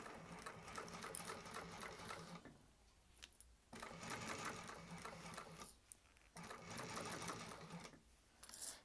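A sewing machine runs a basting stitch along a bag in three long, loud rattling bursts separated by short pauses.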